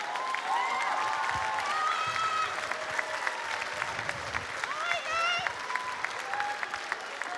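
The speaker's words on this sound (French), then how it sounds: "S'il vous plaît, applaudissez-les très fort." An audience applauds musicians at a song finale of the Jeux de la Francophonie, a steady, dense wash of clapping with whistles and cheers rising through it.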